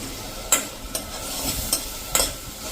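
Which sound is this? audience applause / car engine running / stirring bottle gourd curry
stirring bottle gourd curry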